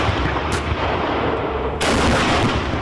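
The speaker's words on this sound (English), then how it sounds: "The noise from those guns is impossible to describe." Challenger 2 tank guns of the British Army fire in a loud, booming barrage. Two heavy blasts hit within a few seconds over a continuous roar of rumbling gunfire on a firing range.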